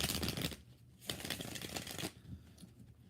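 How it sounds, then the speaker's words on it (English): A deck of tarot cards being shuffled in bursts of soft, papery riffling and flicking, faint and close, with brief pauses between passes and no talking. "All right, 4 shuffles for LZ."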